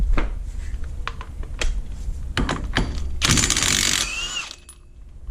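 A Ryobi impact wrench with a 27mm socket working on the rear axle nut of a 2006 Yamaha Kodiak 450 ATV, a few sharp metallic clicks followed by a loud, dense rattling burst of hammering for about a second, then fading.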